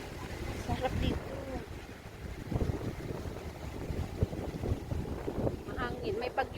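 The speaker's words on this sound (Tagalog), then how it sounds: "Mahangin. May bagyo kasi bukas." Strong wind sweeps a mountainside ahead of a storm, buffeting the microphone with low rumbling gusts while people talk throughout.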